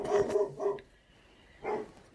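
A dog barks indoors in the morning: two quick barks, a third shortly after, then a final bark after a pause, moderately close and clear.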